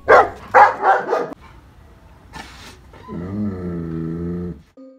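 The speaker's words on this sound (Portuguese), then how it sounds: "O pastor alemão é uma raça de cães conhecida por suas habilidades de proteção e guarda" German shepherd dog barking on guard, three or four loud, close barks in quick succession, then a brief pause, another bark and a drawn-out whining or growling vocalization.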